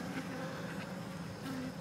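Honey bees in a nucleus box give a low, steady buzzing hum close by, continuous and fairly quiet, with no talking.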